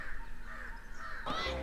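Birds call outdoors among rustling leaves, with a faint, crow-like caw rising near the end over a soft, steady background hum.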